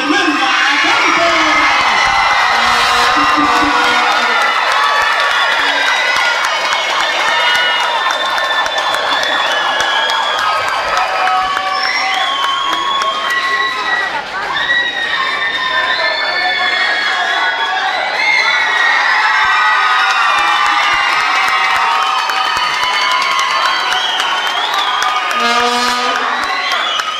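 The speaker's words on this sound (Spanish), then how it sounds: "recibimos con un fuerte aplauso a María Fernanda Acampo" A loud crowd at the final of a singing contest cheers, whoops and applauds as a contestant is welcomed after her song, a dense, continuous roar of shouting voices lasting throughout.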